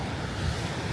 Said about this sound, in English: These are waves.